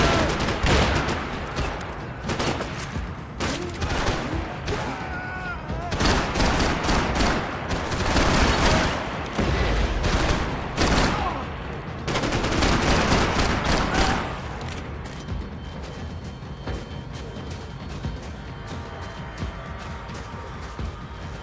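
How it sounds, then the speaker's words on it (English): Rapid bursts of gunfire and heavy machine-gun fusillades in the video game Max Payne 3, set in Hoboken, loud and close, with dense volleys coming in waves and a quieter stretch of scattered shots toward the end. "Gunfire over Hoboken."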